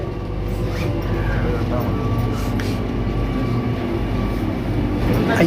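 A Kochi metro train near Ernakulam South rumbles steadily with a low droning hum and faint mechanical squeals, heard from inside or close by, with voices faintly present.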